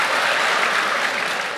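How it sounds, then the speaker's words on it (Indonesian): A church congregation applauding during a Sunday sermon, dense steady clapping from many hands that fills the whole moment, loud and close, with no speech over it. "Saya nggak suruh saudara tepuk tangan."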